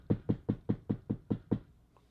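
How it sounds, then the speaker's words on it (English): Eight evenly spaced knocks on a door, firm and close, rapping in a steady quick rhythm with no voices over them. "there's somebody knocking at the door"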